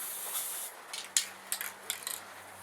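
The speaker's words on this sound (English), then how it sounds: "remember to turn the can upside down and spray it into a more vented area just to clear the nozzle" Short bursts of hiss from an upside-down chrome spray paint can as the nozzle is cleared, several quick faint sprays with small clicks in a quiet room.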